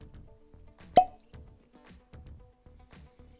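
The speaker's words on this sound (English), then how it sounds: "Cork pop time." A cork pops from a bottle of Talisker Special Edition whisky, one sharp, close plop that stands alone amid quiet handling sounds and faint rustling.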